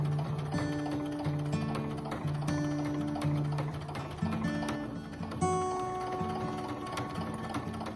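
A sewing machine top stitches around the outside edges of a handmade wallet, running steadily for the whole stretch with a rhythmic mechanical ticking and humming drone, close and fairly quiet, with no talking.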